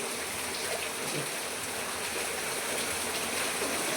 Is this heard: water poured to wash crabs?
yes